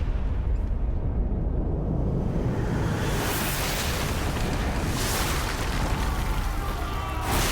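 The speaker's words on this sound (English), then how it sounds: "Well, that place is exploding." Sustained roaring explosions destroy a building in the video game Thief, a dense rumbling blast that swells and stays loud throughout with crackling bursts on top, and no voices.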